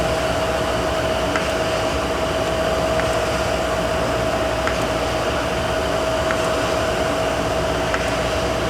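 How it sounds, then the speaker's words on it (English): A Jakobsen hydraulic surface grinder runs with its table feeding, giving a steady mechanical hum with a sustained whine and faint periodic ticks from the table reversing, continuous and fairly close. "So if I turn this on, start our table going, and bring this down, this is going to feed."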